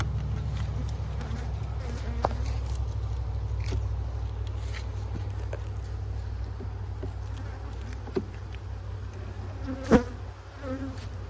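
Honey bees buzz steadily inside an opened winter hive, a close, continuous drone over a low hum, with a few brief knocks and bumps near the end.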